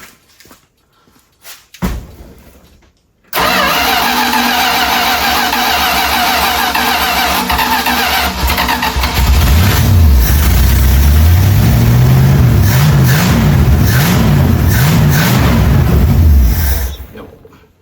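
A neglected 1978 Dodge D150 truck, left sitting for 20 years and needing carburetor work, cranks after a few faint knocks, catches and runs loud and close with a rough, uneven idle that rises and wavers before cutting off.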